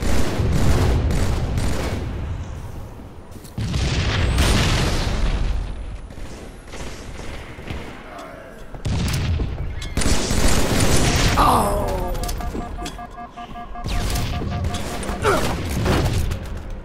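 A grenade blast and gunfire from the Halo MCC video game, with repeated loud booms and bursts of fire sounding close and heavy amid continuous combat noise.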